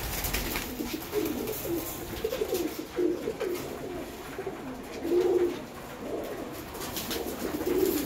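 Pigeons cooing inside a loft, with soft low burbling coos repeating steadily, a few swelling louder over a constant background hiss.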